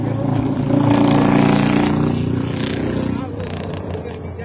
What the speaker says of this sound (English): Sorry about the noise, we are on a road.